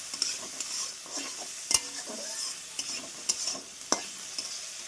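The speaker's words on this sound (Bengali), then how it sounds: "পেঁয়াজ কুচি রসুন কুচি দিচ্ছি একসাথে টমেটো কুচি আর কাঁচা লঙ্কা নেড়ে চেড়ে পেঁয়াজ রসুনটা একদম লাল লাল করে ভেজে নেব" Chopped onion, garlic, tomato and green chili fry in a pan while being stirred, giving a steady close sizzle broken by several sharp spatula scrapes and knocks, with no voices.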